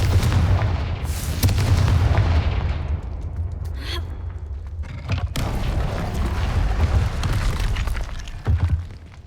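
A Confringo spell explodes in the video game Hogwarts Legacy, a loud booming blast with a crackling burst, followed by further heavy rumbling impacts through the rest of the clip.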